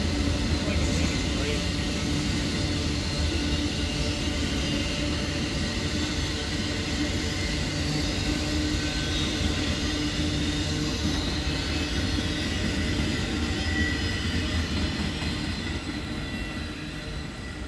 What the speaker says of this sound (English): there goes Autotrain on a NAHUNTA sub